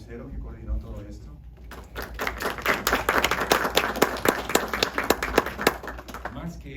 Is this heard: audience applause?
yes